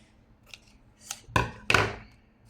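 Scissors snip through paper while trimming pieces for a craft project: four crisp cuts spaced out over a couple of seconds, the last two louder and fuller, close by in a quiet room.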